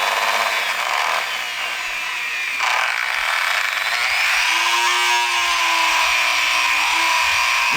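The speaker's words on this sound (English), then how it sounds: "I've attached a wire brush to my small Dremel here" Small Dremel rotary tool fitted with a wire brush, set to low speed, scrubbing rust off a bonsai tool; a steady, close, high-pitched whir with gritty abrasive rasping and a brief drop in pitch midway, with no talking.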